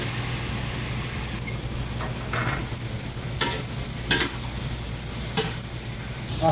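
Pork belly fries in a pan for adobo, a steady close sizzle with occasional brief crackles and stirring scrapes over continuous kitchen background noise.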